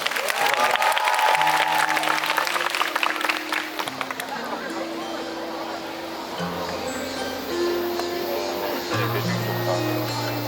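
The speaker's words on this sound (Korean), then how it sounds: "박수로 청해보겠습니다" Concert audience applauding at a Daehangno musical showcase as a singer is introduced, dense clapping that starts strong and settles into steady applause while sustained accompaniment music begins underneath.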